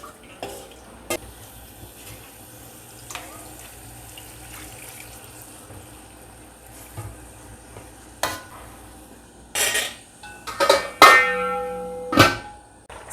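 Ingredients get tossed and stirred in a cooking pot with soft scraping and shuffling, then a burst of louder metallic clatters and sizzles near the end, close by and without speech.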